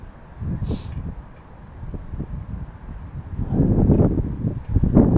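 A headwind buffets the microphone on a bass fishing outing, low rumbling gusts that swell and build louder toward the end, with no talk.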